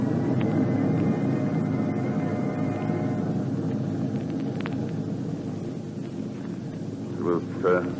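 Airplane engine sound effect in a radio drama, a steady droning rumble filling the background and slowly easing off, with a voice briefly heard over it near the end.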